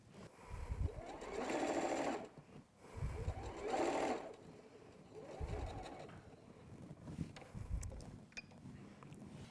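A sewing machine stitches a quarter-inch seam on a fabric eye mask in four steady bursts with short pauses between them. A quiet voice comes in faintly near the end.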